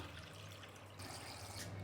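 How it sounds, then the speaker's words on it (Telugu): A short, steady stream of water pours into a pot, soft and fairly quiet, with no voices. "ఈ నీళ్ళు వంచేసి వేరే నీళ్ళు పోసుకుందాం"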